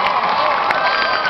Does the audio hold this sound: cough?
no